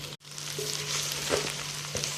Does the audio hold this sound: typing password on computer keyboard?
no